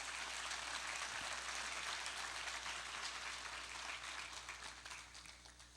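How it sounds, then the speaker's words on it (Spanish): A church congregation applauds continuously as a dense, steady wash of claps that fills the space, holding level before gradually thinning and fading toward the end. "Dale un aplauso al Señor"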